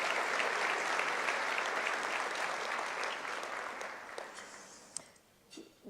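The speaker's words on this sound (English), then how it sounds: "we'll give a big round of applause to our service workers as well" An audience at a Harris County State of the County speech gives sustained applause for service workers and first responders. The clapping is dense and steady at first, then thins out and fades into a few scattered claps.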